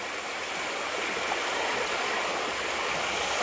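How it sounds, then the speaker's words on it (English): A small brook on the Appalachian Trail rushes and burbles in a steady, dense wash of water noise, close and fairly loud, with no voices heard. "A beautiful little brook."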